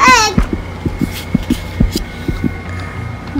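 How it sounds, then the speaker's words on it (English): A Hatchibabies toy egg plays a heartbeat sound, a close, steady low double thump repeated about a dozen times. A brief electronic chime comes first, and a voice is faintly present. "Do you hear the heartbeat?"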